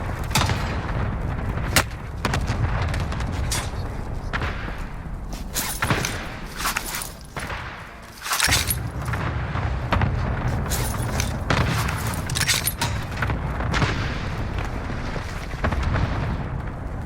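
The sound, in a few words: gunfire in Call of Duty: Warzone video game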